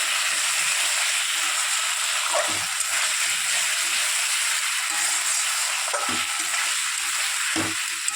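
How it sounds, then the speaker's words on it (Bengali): Fish masala spices fry in a pan with a steady, loud sizzle, and soft stirring scrapes break through now and then. "এখন মাছের মশলা কষাচ্ছি কষিয়ে নিচ্ছি"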